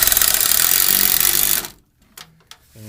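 A power driver runs self-tapping screws up into the wheel well underside of a Nissan NV van, one loud whirring run of about a second and a half, then a stop and a few short clicks.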